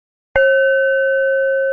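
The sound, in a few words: Tibetan bell struck and ringing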